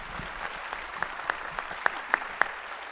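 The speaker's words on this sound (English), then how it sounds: "please join me with a round of applause" Applause at a Republican congressional debate for the 2nd District, a light scattered patter of claps with a few sharp, close individual claps standing out over a soft room background.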